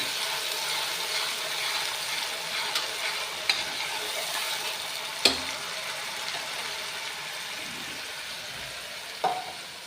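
Taro (arbi) frying and browning in a pan with ground chilli, garlic, onion and spice paste, a steady soft sizzle throughout with a few brief sharp clinks of stirring.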